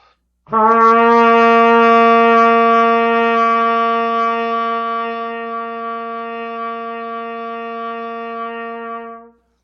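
A single low open C on trumpet held steadily for about nine seconds, bright and brassy, played alone and fading slightly before stopping cleanly.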